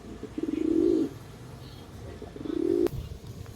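Pigeons cooing inside a pigeon loft: two low, throaty coo phrases, one early and one near the end, fairly close and clear over a faint background with a brief flutter.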